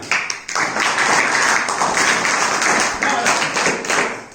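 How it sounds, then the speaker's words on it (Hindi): An audience claps together at a Republic Day and Basant Panchami gathering: dense, steady applause that starts abruptly after a brief pause and holds loud and close throughout. "तो पहले तो इसके लिए ताली हो जाए"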